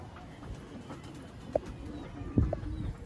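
A Ferozpuri pigeon coos softly a couple of times among low bird murmurs and background noise, the calls brief and moderately close.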